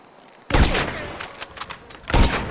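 Gunfire in GTA V story mode: a loud sudden burst of shots, then scattered cracks and thumps, then a second heavy burst, all close and without talk.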